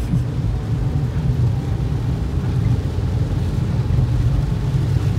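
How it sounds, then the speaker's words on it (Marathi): Dense, steady rumbling wash of heavy rain on the Mumbai-Goa Highway, loud and unbroken throughout, with no voices or distinct events. "पाऊस पण चांगला आलाय"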